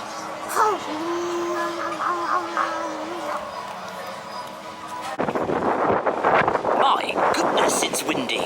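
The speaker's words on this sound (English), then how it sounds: "My goodness, it's windy." Gusty wind buffets the microphone outdoors on a homestead, a steady roar that swells louder in the second half, with a person talking over it early on.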